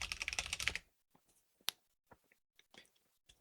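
Close, quiet keystrokes on a computer keyboard: a quick burst of rapid typing at first, then sparse, scattered clicks separated by pauses.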